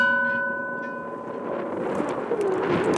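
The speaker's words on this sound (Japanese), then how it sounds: "私もその鐘を鳴らす一人になりたいと思います。" A bell at Cape Nosappu, the easternmost point of Japan's main islands, rings out once and its tone fades over a few seconds amid wind and outdoor noise.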